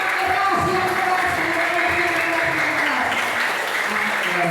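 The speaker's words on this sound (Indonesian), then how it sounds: "Tepuk tangan dulu dong untuk kita semua" Audience applause at a Christian meditation gathering with children from Santa Maria, a steady crowd clapping that fills the space with a voice or two briefly audible over it.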